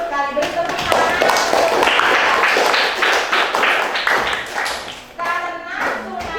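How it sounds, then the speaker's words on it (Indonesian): Schoolchildren in a classroom clap together in a quick, rhythmic burst that fades out, with a voice and a teacher's talk around it. "Beri tepuk tangan."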